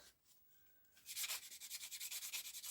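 Sanding by hand with fine sandpaper on a part of an F18D3 engine's ignition coil, starting with faint rubbing and then moving into a rapid rhythmic series of close, raspy back-and-forth strokes.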